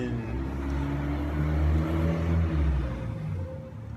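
A car or truck passing by outdoors, a steady low engine rumble and road roar that swells slightly in the middle and then fades as it goes past, with no voices.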